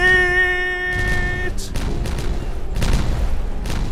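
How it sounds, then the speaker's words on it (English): A TNT charge detonates in a video game, a heavy boom with a rumbling tail that follows a tonal game sound, then scattered crackling debris and softer thuds trailing off. "Big old explosion."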